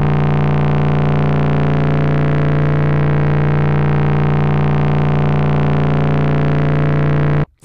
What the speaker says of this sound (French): 778 Hz, je dois être très très proche de la fréquence d'un multiple du Ré. Parce que le battement est extraordinairement lent.